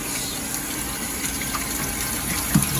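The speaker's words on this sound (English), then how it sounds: "Just into a strainer or colander with cold water, and then just a quick rinse." Cold tap water gushes steadily over canned black beans in a strainer, a close, continuous rushing hiss with a small clink near the end.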